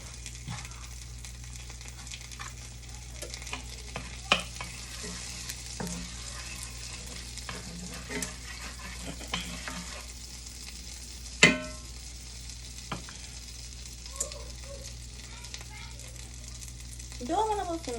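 Shrimp cook in a pan with a soft, steady sizzle, punctuated by occasional clinks and scrapes of stirring. A person talks intermittently over the quiet frying.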